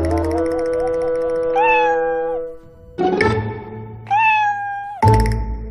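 A cat gives a series of four loud, close meows, drawn-out tonal calls separated by short pauses, with a soft thump as the last one begins and no talk.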